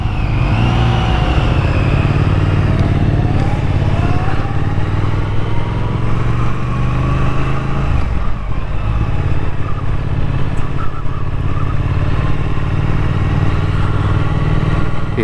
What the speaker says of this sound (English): These Triumph engines are so nice. Give a lovely little purr as you're going along the road.